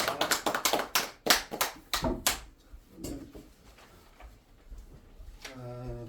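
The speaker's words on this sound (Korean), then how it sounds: "우리 박수 한번 주십니다." Seminar audience at a Korean church gathering in a hotel applauding, a brisk burst of sharp claps for the first couple of seconds that quickly thins out, followed by quiet room tone and a brief voice near the end.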